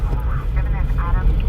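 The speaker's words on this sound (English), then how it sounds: "Oh, that's where they're going. That's a helicopter." Overhead, a helicopter above Los Angeles at night makes a continuous low engine roar and rumble, with voices talking over it the whole time.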